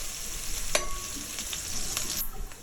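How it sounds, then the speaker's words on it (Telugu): Onion and green chili pieces frying in a pan for mushroom curry give a steady close sizzle with a few sharp clicks and stirring scrapes, and no voices are heard. "ముందుగా కట్ చేసి పెట్టుకున్న ఉల్లిపాయ ముక్కలు, పచ్చిమిరపకాయ ముక్కలు కూడా వేసుకుని"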